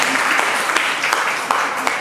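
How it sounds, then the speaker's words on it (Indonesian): A crowd applauding steadily at a memorial event, the clapping dense and continuous throughout. "Kembali kita tepuk tangan."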